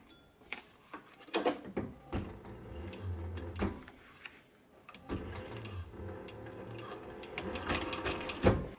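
A sewing machine stitches leather in short bursts, its needle thumping rapidly, with pauses and handling clicks between runs.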